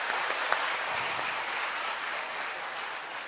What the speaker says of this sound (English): Please, everyone, give yourself a big round of applause.